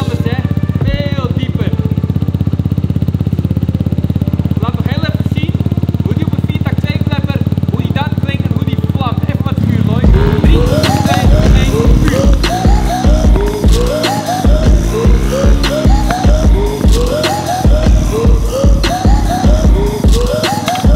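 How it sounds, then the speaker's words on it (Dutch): A tuned moped with a new aftermarket exhaust, first heard as a steady loud drone and then revved hard in repeated rising and falling bursts, close and very loud. "De nieuwe sound van de Oostlandse brommer."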